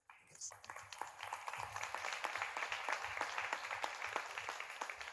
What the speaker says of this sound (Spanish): Así que, por favor, un aplauso.